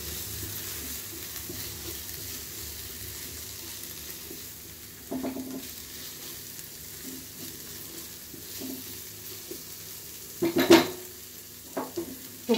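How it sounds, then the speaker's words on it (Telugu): A spoon scrapes and stirs spiced masala in a frying pan for a drumstick, egg and tomato curry, with soft sizzling throughout and a few sharper scraping strokes near the end. "మొత్తం మిక్స్ చేసుకోండి."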